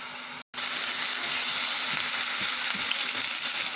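Minced meat frying in about three tablespoons of oil in a pan, a steady close sizzling hiss that runs unbroken except for one brief dropout near the start, with no talking.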